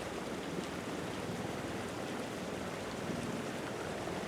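Man-made water flowing downhill in a forest, a continuous rushing wash of water heard close and steady, without speech.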